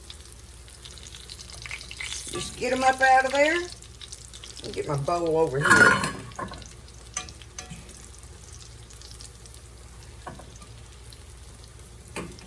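Oil sizzles steadily at low volume as a steak slow-fries in a pan while someone talks nearby, with a few clinks of utensils.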